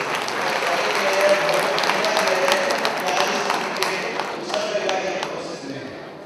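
Dealers at a Tata Tiscon steel dealer conference in Agra applaud loudly, with a sustained hall-filling clapping texture and a few sharper claps standing out.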